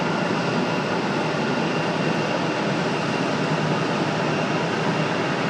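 Republic Airways passenger jet in house livery at Raleigh-Durham airport, a steady, loud broadband engine roar that holds constant throughout with no talk over it.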